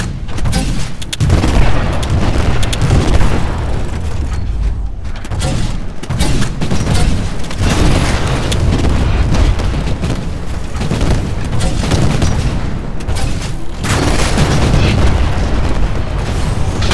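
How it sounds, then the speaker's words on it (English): Suicide specters detonate in Titanfall during a Frontier Defense match on Overlook, a dense, loud stretch of repeated booming explosions and heavy gunfire that runs without pause. "They'll rush their target and detonate,"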